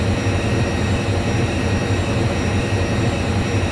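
Simulated Indore Pune Express hauled by a WAP5 electric locomotive in the MSTS train simulator game, a steady loud rolling rumble of wheels and engine drone, continuous and even with no voices.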